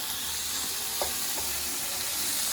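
Pasta tossed into a pan with shrimp for shrimp a la diabla, a steady close sizzle and hiss with a couple of soft stirring scrapes.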